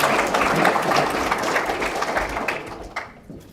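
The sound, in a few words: audience clapping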